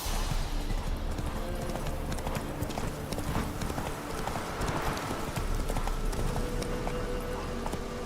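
Geralt's horse Roach gallops in The Witcher 3, a fast steady clip-clop of hooves running continuously and close, over rustling ground noise, with no talk.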